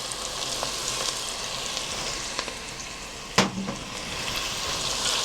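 Garlic sizzles in a pan while Caldo Verde soup is being made, giving a steady, close crackling hiss with scattered small pops and one sharp clack partway through, with no one speaking.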